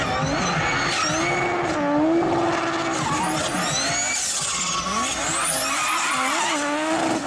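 Audi five-cylinder engine revving hard with loud fluttering compressor surge, a continuous close, sustained roar with rising and falling pitch throughout and no talking.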